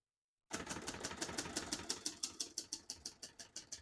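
Someone types on a 1968 Hermes 3000 portable typewriter: a steady run of about fifteen crisp, evenly spaced keystrokes, close and clear, with no talking.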